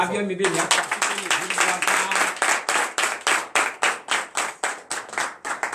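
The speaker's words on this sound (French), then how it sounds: "Donc je vous demande d'applaudir." A congregation applauds during a morning prayer service in Benin, a loud, sustained burst of clapping filling the room with rhythmic swells that rise and fall, while voices mix in underneath.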